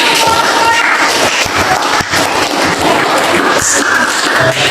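A physics class gives a group applause after a presentation, a dense, fairly loud wash of clapping and crowd noise with scattered thumps and voices mixed in, filling the whole stretch.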